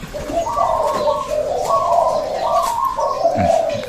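A dove coos in a repeated rounded rhythm, about four phrases close and clear over faint outdoor background.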